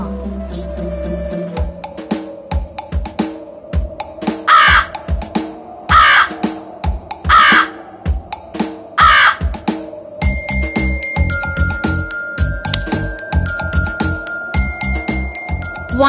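A cartoon crow caws in a few loud, evenly spaced calls over a busy animated soundtrack, with chiming musical tones joining toward the end.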